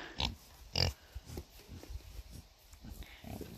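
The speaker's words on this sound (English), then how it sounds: "Hello, lots of pigs." Pigs on a farm grunting and snorting in short, irregular bursts, fairly faint, with outdoor background noise and no talking.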